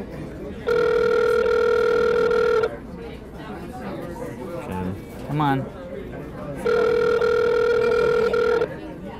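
Ringback tone on an outgoing telephone call, waiting for voicemail: two long steady ringing bursts a few seconds apart, with a voice murmuring in the gap between them.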